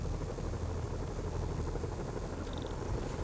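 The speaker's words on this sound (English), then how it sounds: "Bet I can use those helicopters to swing." A helicopter in Marvel's Spider-Man thrums with a steady, loud rotor drone and a low churning rumble, holding constant throughout, with a faint high beep near the end.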